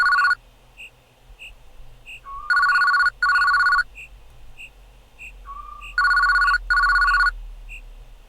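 A telephone ringing in a horror video game: two pairs of loud, trilling electronic rings a few seconds apart, each a pair of short bursts, with faint chirps between them and no talking.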